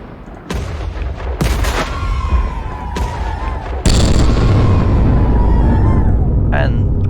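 Cannon fire sinking a ship in Minecraft's Naval Warfare mode, a few sharp blasts in quick succession followed by a loud sustained crash and rumble of destruction, with a short whooshing effect near the end.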